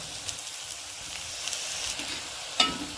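Bitter gourd chips crackle and sizzle in hot oil, a soft, steady bubbling fry with faint stirring clicks and one sharper scrape near the end, no talking.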